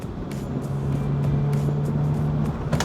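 A Toyota GR86 Cup Spec race car brakes hard on a public road, its engine note holding a steady low drone while road and tyre noise rush past, with a few sharp clicks near the end.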